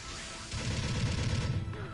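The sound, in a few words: Gatling shield firing in Gundam Battle Operation 2 video game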